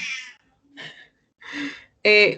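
A cat meows four times in short, separate calls, close and clear, the last one loudest, with quiet gaps between them.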